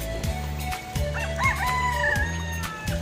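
Chickens, including a laying hen, cluck and a rooster crows nearby over a steady low mechanical hum, with short repeated calls rising and falling.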